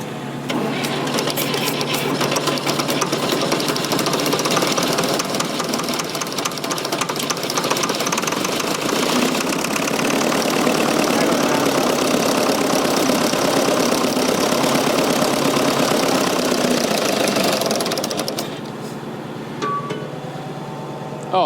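Fordson Super Major backhoe engine running roughly: a loud, dense, uneven mechanical clatter that holds steady for most of the stretch, then drops to a quieter idle near the end.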